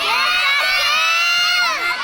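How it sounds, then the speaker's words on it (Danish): A crowd of children in a live show audience shout and cheer together, loud and continuous, with high overlapping voices and no break across the stretch. "Hvad råber I sådan for?"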